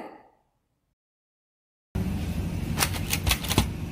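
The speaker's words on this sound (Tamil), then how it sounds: "பிராண்ட் அதுக்கப்புறம் அந்த சைஸை வந்து ஸ்டிக்கரிங் பண்ணுற மிஷின் இது" A garment brand and size sticker labelling machine in a Tirupur textile mill starts up after near silence, giving steady mechanical clatter with a few sharp, evenly spaced clicks close by.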